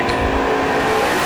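Drag race cars launching side by side down a strip, a loud dense engine roar held steady and close for about a second, no voices.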